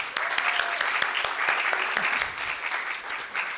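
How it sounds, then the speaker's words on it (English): An audience at a live spoken-word show claps in another round of applause, a dense, steady burst of many hands close by that fades slightly toward the end. "another round of applause for TK."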